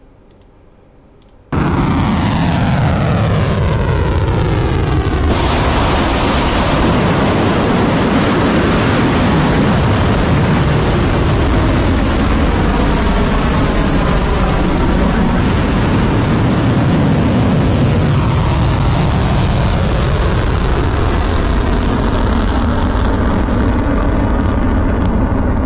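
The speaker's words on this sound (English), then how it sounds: "new footage showing 2 Khorramshahr 4 ballistic missiles launched towards Tel Aviv" Two Khorramshahr-4 ballistic missiles launching, a sudden loud roaring blast that begins abruptly and holds as a sustained, dense rumble for over twenty seconds.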